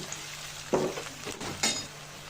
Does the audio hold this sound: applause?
no